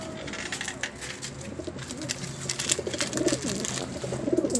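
Pigeons coo softly and repeatedly nearby, with a rustling, busy background of wingbeats and movement.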